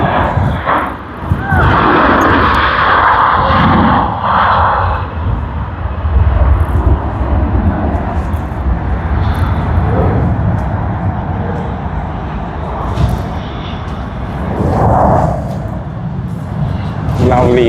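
A Vietnam Airlines jet airliner departs Sydney Airport, its broad engine roar swelling and holding steady throughout, with people talking over it near the start and again later on.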